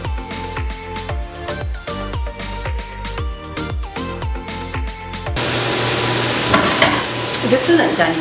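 Meat is stirred in a pan on a home stove for breakfast: a rhythmic series of close, loud utensil scrapes gives way to a steady, hissing sizzle of frying.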